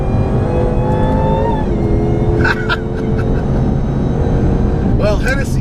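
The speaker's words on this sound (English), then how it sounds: "Listen to the whine." Gearbox whine from a 2015 Hennessey HPE750 Mustang being driven hard on a track, heard from inside the car as a steady rising tonal whine over loud engine roar, with brief shifts and tone sweeps near the end.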